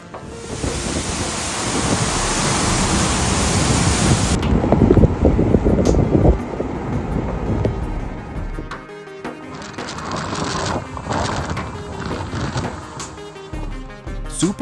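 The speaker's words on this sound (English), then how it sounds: "Super Typhoon Mangkhut is approaching southern Chinese cities, bringing heavy rain and strong winds, darkening the sky." Super Typhoon Mangkhut lashes a southern Chinese city with heavy rain and strong winds, a loud dense roar of downpour and gusts that later thins into scattered rattling impacts and bursts of rain.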